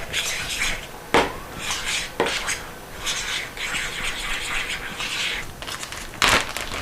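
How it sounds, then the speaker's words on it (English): A fork scrapes and clinks against a bowl while mixing flour and seasoning for air-fried quail. Sharp metallic taps sit between brisk, irregular scraping strokes, close and moderately loud. "Then I'll get a fork and I'll mix it up."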